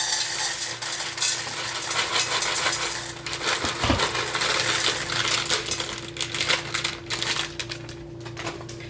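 Dry pasta from a whole bag poured into a hot pot while cooking sopita, a rattling cascade of small hard pieces with clattering bursts and a sharp sizzle partway through, fairly close.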